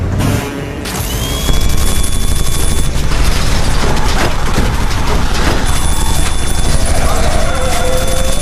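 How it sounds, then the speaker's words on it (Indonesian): Machine gun fire in a scene from The Purge, loud rapid bursts crackling over a roaring, chaotic background that kicks in sharply and stays intense for several seconds. "Big Daddy dengan marah menembakkan senapan mesinnya"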